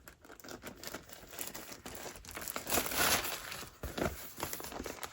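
A small, pretty piece of thrifted wrapping paper crinkles and rustles steadily while being handled up close, with louder crumpling bursts partway through and no talking.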